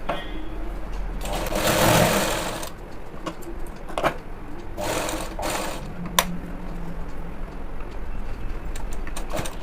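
A sewing machine stitches folded pant fabric in a few short whirring runs, close by, against steady background noise.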